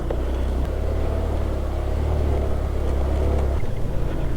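A Honda Click scooter engine drones steadily while riding over a rough mountain road, a loud continuous low hum with rumbling road noise and a brief dip in pitch near the end.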